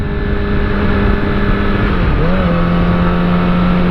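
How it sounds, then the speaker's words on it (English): Road traffic rolls past steadily, a continuous engine rumble with a tonal whine that shifts pitch midway as a vehicle changes speed, heard from a motorcycle on a busy road. "Yeah, there's a lot of traffic, look at that"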